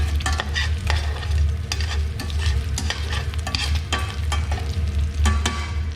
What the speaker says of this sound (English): So here you have the pork jowl still rendering out.